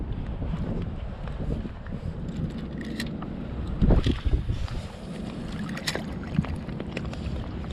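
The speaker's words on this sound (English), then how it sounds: "Got a little wind blowing in now. It's pushing me towards the bank." Wind gusts buffet the microphone out on the water during a fishing trip, a steady rushing roar with a few knocks and creaks from the boat, and no talking.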